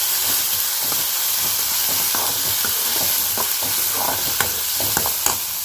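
Lentils sizzle loudly with green chilies in hot oil for a cabbage stir-fry, a steady close frying hiss broken by scraping stirs and a few sharp spatula clicks.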